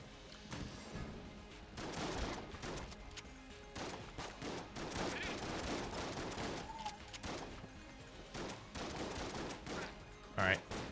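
Dense gunfire from the bullet-hell game Enter the Gungeon, with volleys of rapid shots and crackling impacts rolling on almost continuously, and a voice talking over it at times.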